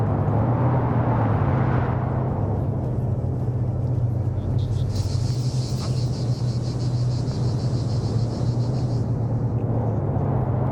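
A vehicle engine in an Arma PvP match rumbles steadily and loudly throughout, a constant low drone close by, with a faint high buzzing layer rising over it midway.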